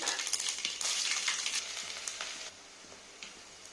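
Spices for a sambar tempering sizzle in hot oil, giving a close, bright crackling hiss with scattered pops that gradually dies down and softens.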